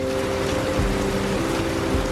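Heavy tropical rain pours steadily on a cargo boat travelling the Amazon River between Peru and Colombia, a dense hiss over the low, constant hum of the vessel's engine.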